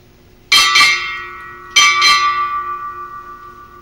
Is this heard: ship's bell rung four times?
yes